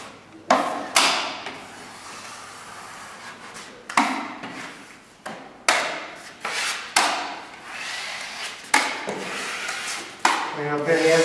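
A drywall knife wipes joint compound over paper tape in an inside corner, giving repeated rough scraping strokes, each a loud swipe that fades, close up with no talk.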